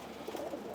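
Pigeons coo softly inside a loft where new breeder birds are kept alongside flying birds, a brief, low, murmuring call with no voices.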